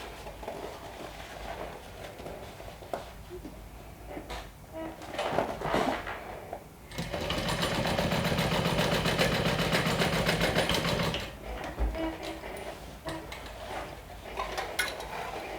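A sewing machine stitches a bag seam in a single steady run of about four seconds, framed by quieter fabric handling and rustling before and after.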